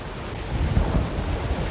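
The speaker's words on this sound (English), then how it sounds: "Hawaii has some of the biggest waves in the world." Waves crash on Hawaii's North Shore, a short burst of heavy surf roar mixed with strong wind buffeting the microphone, loud and close with no talking.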